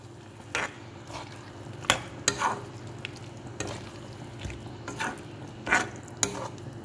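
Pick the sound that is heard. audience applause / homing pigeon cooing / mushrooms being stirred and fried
mushrooms being stirred and fried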